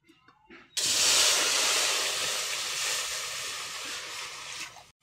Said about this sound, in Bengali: এখন জল দিয়ে দেব কড়াই